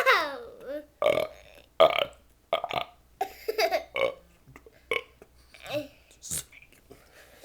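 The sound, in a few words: man belching the alphabet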